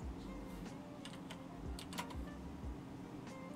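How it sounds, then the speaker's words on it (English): Soft, rapid keystrokes on a computer keyboard, steady and fairly quiet beneath a low hum of background noise. "I just suck at typing"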